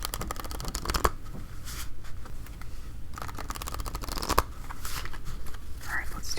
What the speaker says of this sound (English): let's do one last shuffle